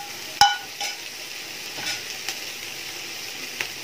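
Egg frying in a pan for Kerala-style chicken fried rice: a faint steady sizzle with a few sharp clinks of a utensil against the pan, no voices.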